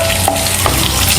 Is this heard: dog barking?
no